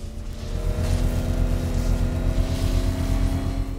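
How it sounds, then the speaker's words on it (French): A vehicle engine in Batman Arkham Knight is gradually revved toward the red zone, producing a loud, steady, close roar whose pitch climbs slowly throughout. "Faites doucement monter le régime moteur jusqu'à la zone rouge pour alimenter l'antenne."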